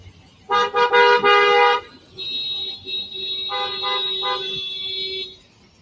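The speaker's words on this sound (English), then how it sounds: "Hopefully they're all honking for the cameraman" Several car horns honk in traffic on a California road, first a loud cluster of blaring blasts, then a long steady tone with shorter beeps layered over it, close and prominent, with no talking.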